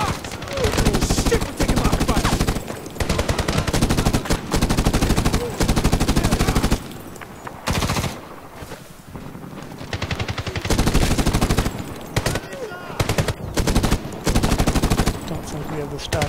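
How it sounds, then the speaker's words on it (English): Heavy gunfire in the video game Medal of Honor (2010): dense, rapid machine-gun bursts and shots fill most of the time, loud and close, with a few brief lulls and voices shouting amid the fire. "we're taking a lot of fire!"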